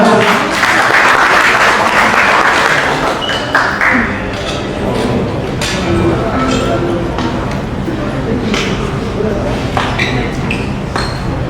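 Sustained audience applause fills a crowded Indonesian political gathering as a speaker from the Gatot Kaca group is invited to the stage; dense clapping rolls steadily throughout with murmuring voices mixed in.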